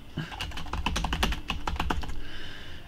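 Typing on a computer keyboard, a quick run of close, crisp key clicks in an irregular rhythm, alone without talk.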